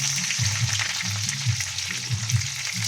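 Ginger, garlic and onion frying in oil, a continuous close sizzle with a low rhythmic rumble underneath, heard alone without talk.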